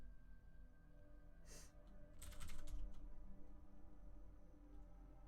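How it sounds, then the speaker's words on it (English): Quiet computer keyboard typing for bad passwords in brief bursts of clicky keystrokes, near but faint over a steady low hum with no talk. "I'm going to type in some bad passwords."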